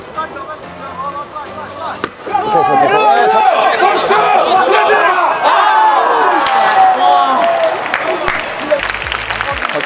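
Spectators at an international disabled baseball tournament in Tokyo cheer and clap; a steady loud wash of crowd noise swells after the first two seconds and holds, with voices shouting over it.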